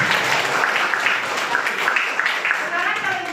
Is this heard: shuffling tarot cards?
no